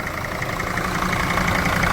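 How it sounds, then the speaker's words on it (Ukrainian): A commercial van engine idles smoothly and evenly at an outdoor used-car market, a steady low mechanical hum with a soft regular pulse and no talking. "м'яко, чисто працює двигун, ніяких нарікань немає"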